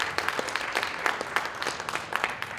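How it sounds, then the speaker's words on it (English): Audience applause at a conference talk, a steady patter of many hands clapping with scattered louder claps, fairly quiet and heard alone. "so give him a round of applause."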